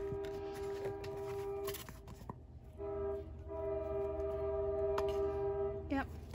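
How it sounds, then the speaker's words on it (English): A train passing in the background with sustained horn-like tones and low rumbling, steady and moderately distant throughout, overlaid with faint nearby clicks and handling noises. "There's the train in the background, as always."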